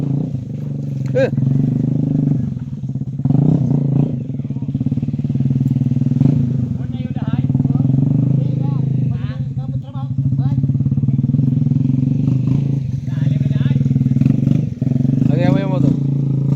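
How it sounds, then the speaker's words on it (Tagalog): A motorcycle engine drones steadily and loudly throughout, with a deep continuous rumble, while people talk over it. "Ito yung motor mga kaibigan. Lumalaban yan sa ano, sa putikan."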